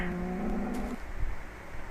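A single drawn-out Minecraft cow moo sounds in the first half, then fades into a low, quiet background.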